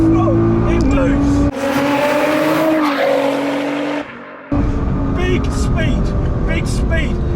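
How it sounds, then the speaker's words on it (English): An 800 wheel-horsepower tuned Nissan GT-R Nismo revs hard at full throttle in third gear, pitch climbing with a brief drop at a shift, loud and close, with tire noise. "Third gear, wide open throttle, it moves."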